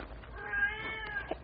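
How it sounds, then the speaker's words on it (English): A cat squalls under a warehouse as a radio drama effect, a single drawn-out wavering meow with a short final yowl, fairly faint and heard alone. "I was sure I heard a cat squalling under that warehouse."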